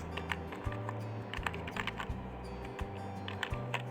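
Computer keyboard typing with quick, irregular key clicks and a few heavier keystrokes, close and steady through the whole stretch, with no voices.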